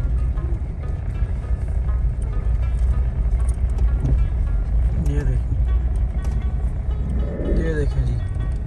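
Car rolling down a steep mountain road in the lowest gear with the brakes applied, a steady low engine rumble beneath people talking throughout.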